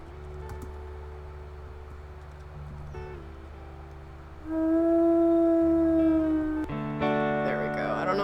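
A wolf in the video game WolfQuest lets out a long, loud howl with a sustained, slowly gliding tone over steady game ambience, followed by overlapping higher howls near the end.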